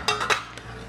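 A spoon scraping sauce from a dish: two quick, bright clinks of metal on crockery close together, then a fainter third tap, close and clear.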